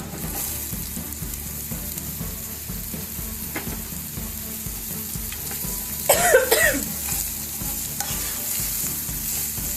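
Spices sizzle in hot oil as a tempering for kadai paneer, a steady frying hiss with stirring scrapes, broken midway by a brief burst of coughing.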